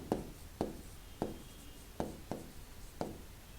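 A pen works on paper for a math assignment, giving a series of sharp taps and short scratchy strokes at irregular intervals, close and quiet with no talking.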